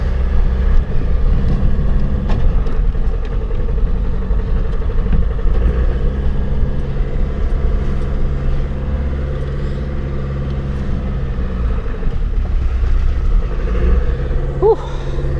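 A Land Rover Discovery 300TDi diesel engine drones steadily while driving, a loud, low rumble with constant mechanical clatter throughout and occasional faint knocks, sustained for the whole stretch.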